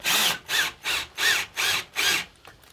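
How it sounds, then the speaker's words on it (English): A power drill driver whirs in six short, even bursts with brief pauses between, driving a screw into a brick wall, close and loud, then stops; no speech. "I'm going to keep using the screw drill driver."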